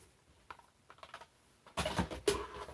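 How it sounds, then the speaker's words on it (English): An ultrasonic pest repeller clicks, sparse faint ticks at first, then a louder cluster of sharp clicks in the last second, close up with no talking. "it's a clicking noise"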